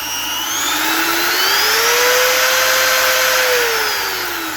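Close, loud whine of a Bauer compact router running at variable speed, the motor pitch sweeping gradually upward and then easing back down in a smooth continuous tone, with no talking.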